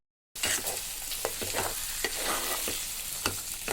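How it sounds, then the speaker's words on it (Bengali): Taro leaves fry in hot oil with a steady, loud sizzle, while a utensil stirs them in repeated scraping strokes throughout, with no voices. "কিন্তু কচুটা এখন প্রায় ভাজা ভাজা হয়ে এসেছে"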